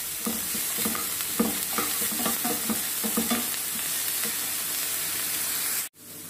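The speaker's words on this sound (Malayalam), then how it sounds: "ഇത് ഇടയ്ക്കിടയ്ക്ക് ഒന്ന് ഇളക്കി കൊടുക്കണം. ഇളക്കി കൊടുത്ത് നന്നായിട്ട് വഴറ്റണം." Green chilli, ginger and curry leaves sauté in hot oil for fish cutlet, giving a constant close sizzle with repeated scraping stirs in an uneven rhythm that cuts off abruptly at the end.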